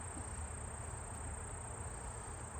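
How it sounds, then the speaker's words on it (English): A European hornet buzzes around beehives in mid-September, a steady close insect drone holding at an even level throughout with no voices. "Is that one of them European hornets?"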